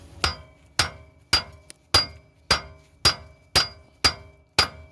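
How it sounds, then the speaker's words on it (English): A hammer striking the tie rod on a 2004 Ford Explorer Sport Trac XLT 4.0L during tie rod replacement: nine sharp metallic blows at a steady, even pace, close and loud. "normally you would hit around here on the outer side of this, kind of like that."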